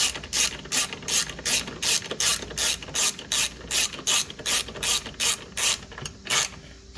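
Ratchet wrench with a 10 mm socket tightening a nut during a 2018 Mini F57 battery replacement, giving a quick, even series of close, crisp clicking bursts, about a dozen in a row.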